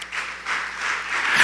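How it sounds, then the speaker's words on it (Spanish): Crowd applause at a church worship service, a steady wash of many hands clapping at moderate volume throughout, swelling slightly toward the end. "Dele un fuerte aplauso al Señor"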